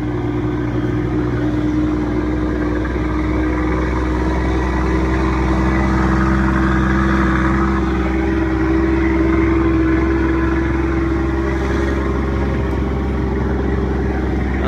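A truck rolls slowly along a dirt road beside a wheat harvest, its steady low engine hum and rumble continuous and close throughout, with no talk.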